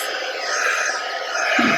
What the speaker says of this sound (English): Just grab my Couture Creations heat gun,